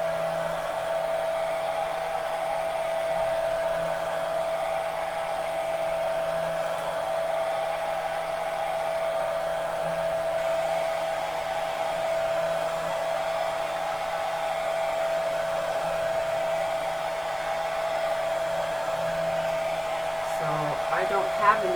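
A hair dryer blows steadily on wet chalk paint over a stencil, giving a constant whirring hiss with a faint motor whine, unchanging and close for the whole stretch, with no talking over it.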